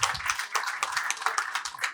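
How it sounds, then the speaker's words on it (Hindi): A live audience at a panel show claps enthusiastically, dense continuous hand-clapping heard close and fairly loud without talk. "जोरदार तालियां।"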